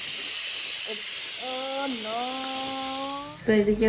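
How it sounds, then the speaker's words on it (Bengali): Bottle gourd frying in a pan on a home kitchen stove, a steady loud hiss of sizzling oil running throughout, with a voice speaking over it in the middle and near the end. "এই যেদিকে রান্না হচ্ছে আমার লাউ ভাজিটা"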